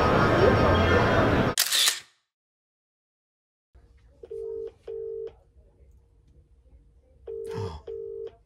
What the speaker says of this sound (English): Phoning Liam